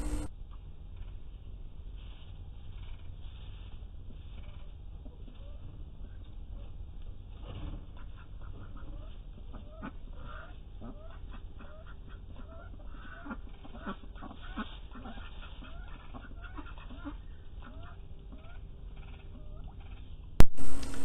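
Ducks about five to six months old quack repeatedly in short, clipped calls over a steady low rumble, fairly close, continuing in a loose rhythm throughout.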